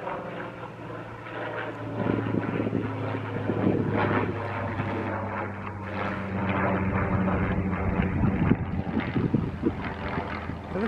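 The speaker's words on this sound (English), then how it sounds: "It looks like a Spitfire." A Supermarine Spitfire propeller plane drones overhead during a countryside walk near Boxley, Kent, a steady low engine hum that swells and holds with wind buffeting the microphone.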